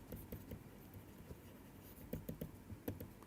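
Pen or chalk writing during a physics lecture, with soft scratchy strokes and faint taps in an irregular rhythm, quiet and close, with no talk.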